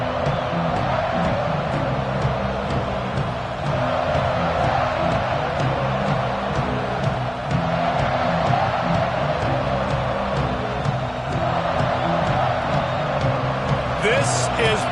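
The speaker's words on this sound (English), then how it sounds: "This crowd ready to make its presence known" Stadium crowd roar in a college football video game, Auburn vs Nebraska, a dense continuous wash of cheering that stays loud throughout, with game commentary voiced over it.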